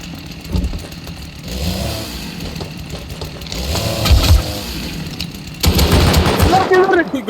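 Gunfire in the survival video game Rust, bursts of rapid shots and a running engine mixed with loud, busy game noise, while people talk over it.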